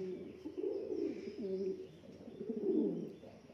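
Pigeons coo in low, throaty, rolling phrases close by, their soft warbling repeated in two drawn-out bursts against faint background noise.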